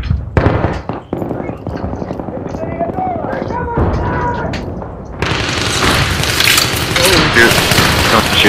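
Battlefield 3 close-quarters gunfire on Ziba Tower, with an M5K in use: bursts of rapid automatic shots and booms crack up close, then a loud sustained roar of firing, while a player talks over it.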